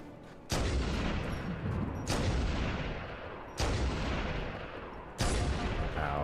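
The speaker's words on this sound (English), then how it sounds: "I just need to blow it up with my sniper" Four loud, sharp sniper rifle shots from Halo 2, spaced about a second and a half apart, each a hard crack that trails off into a long booming tail.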